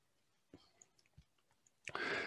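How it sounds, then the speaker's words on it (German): Mouse clicks during a technical presentation on designing and manufacturing lightweight hydrogen pressure vessels: several soft, separate clicks spaced apart, with a louder rustling burst at the end. "dreimal klicken, Marcel."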